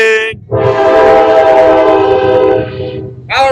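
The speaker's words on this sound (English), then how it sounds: "Train!" A train horn blasts loud and close in one long, sustained blare lasting about two and a half seconds, with brief voices heard just before and after it.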